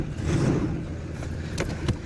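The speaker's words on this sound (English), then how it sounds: "I like the sound of a car with a turbo." A turbocharged car engine with an intercooler idles and runs steadily, a low rumbling drone with a few brief clicks and taps over it.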